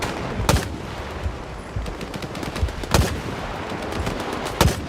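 Player gunfire in STALKER 2, a video game: a handful of loud, sharp shots spaced unevenly over a steady rumbling background, each cracking out close and distinct.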